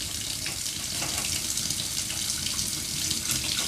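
Hot water runs steadily from an RV tap fed by a 10-gallon quick recovery gas water heater, a continuous close, even hiss of water splashing into the sink with no voices.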